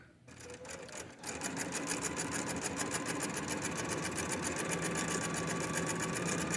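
A sewing machine runs steadily, stitching a garment seam with the needle down; a fast, even mechanical whir starts after a brief pause and continues close and moderately quiet to the end.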